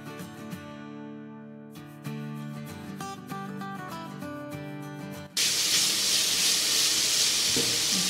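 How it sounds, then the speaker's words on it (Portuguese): Finely chopped onion with minced garlic sautéing in a pan, a loud, dense hiss bursting in after a few seconds of tonal music and holding steady to the end, with no talking. "Enquanto a cebola refoga aqui"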